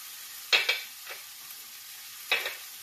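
Ingredients for a Ceylon curry get a brief stir in a hot pan: a few quick, soft scrapes and clinks over a faint, quiet background.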